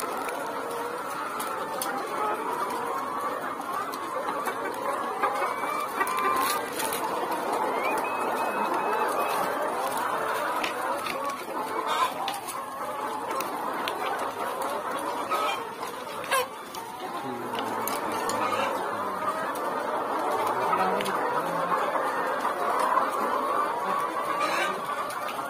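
Chickens cluck around a poultry pen during routine blood sampling. Their overlapping clucks and murmurs are continuous and moderately close, with a few sharper calls and some faint background talk.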